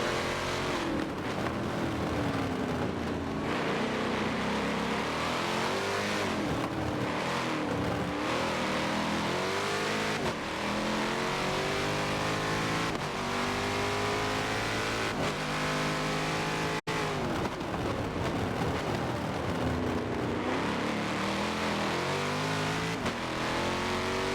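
Touring race cars in an online racing video game at Homestead-Miami roar continuously, engines revving up and down as cars pass, with occasional tire squeal and no talk.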